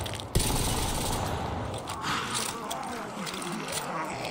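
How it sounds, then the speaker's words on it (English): Rapid automatic gunfire from a weapon in Black Ops custom zombies, a dense continuous stream of shots running through the whole stretch, starting with a sharp crack and then holding steady at moderate loudness. "This thing has a nice fire rate"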